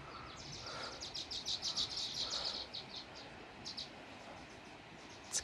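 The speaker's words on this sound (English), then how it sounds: "Look at the birds flying up." Birds chirping as they take off and fly up outdoors: a burst of quick, high tweets clustered in the first half, then scattered calls fading out over a steady background hiss.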